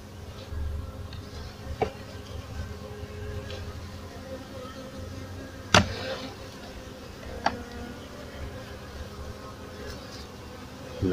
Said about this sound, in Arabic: نعطيو الدخان عند النحل